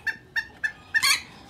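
A rooster being shipped as live cargo gives four short, sharp clucking calls at an even pace, ending in a louder, harsher squawk, close and clear against low background noise.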